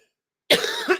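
A single short, harsh cough bursts out close and loud after a stretch of silence.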